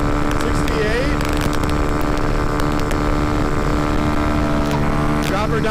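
A motorcycle engine runs hard at about 70 mph in fifth gear during a wheelie, with a loud, continuous roar and rushing wind noise throughout.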